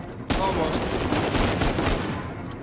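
Gunfire in the video game Uncharted, a dense burst of rapid shots starting sharply and rattling on steadily for a couple of seconds, loud and close, like sustained automatic fire.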